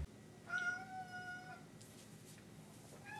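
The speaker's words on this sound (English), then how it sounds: "My cat has decided to join us." A house cat gives a single clear, drawn-out meow at close range, then some quieter rustling and a faint second call at the end, in an otherwise quiet room.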